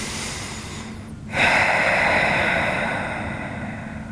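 A slow, deep breath during a relaxing yoga stretch: a soft inhale, a brief pause, then a long, close, breathy exhale that swells and gradually fades, with no talking.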